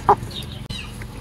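A rooster being packed into a cargo box gives a single short cluck near the start, followed by faint rustling and handling noise.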